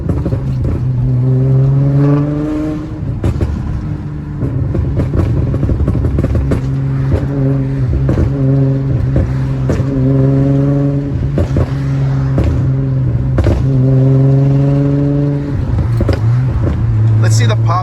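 Tuned Infiniti G35 heard from inside, engine revving and droning through repeated rises and falls with sharp exhaust pops and burbles on lift-off, a voice speaking over it at times.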